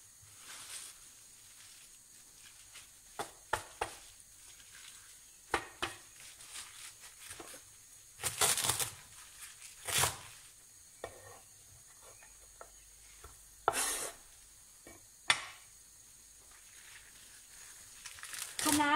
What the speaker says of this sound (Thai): เดี๋ยวจะหั่นส่วนนี้ก่อนใบรอบนอก